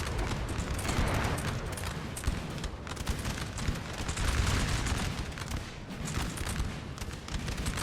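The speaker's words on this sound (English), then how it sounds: "Massive skirmisher formations firing at each other." Massed skirmisher formations in Napoleon: Total War trade musket fire, a dense, unbroken crackle of overlapping shots with deeper thuds mixed in, steady and fairly distant throughout.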